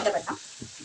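Tomatoes frying in a pan give a brief close sizzle as a few quick stirring scrapes break through, with no one speaking.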